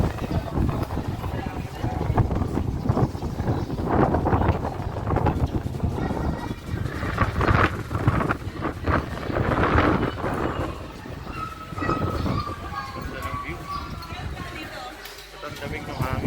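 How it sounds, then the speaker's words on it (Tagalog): Strong wind gusts buffet the microphone at a Tagaytay lookout facing the volcano, a steady roaring rumble lasting throughout while people talk nearby. "Ang damig ng hangin."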